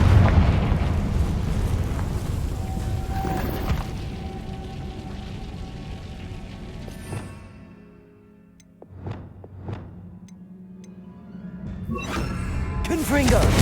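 Confringo explosion spells in the video game Hogwarts Legacy, a heavy booming blast that fades into a rumbling tail, followed after a lull by several sharper thumps and a final loud burst.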